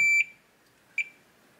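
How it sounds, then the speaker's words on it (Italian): Two short, clear electronic beeps from a multimeter in diode test mode, checking a shorted Samsung IPM, spaced under a second apart, high-pitched and fairly close in an otherwise quiet setting. "il bip ci aiuta anche a livello sonoro"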